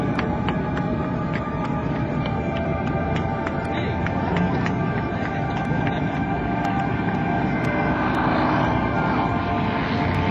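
A Sukhoi Su-31 aerobatic plane performs at an air show, its propeller engine droning loudly and continuously with a rising, shifting pitch as it maneuvers overhead, with crowd ambience around it.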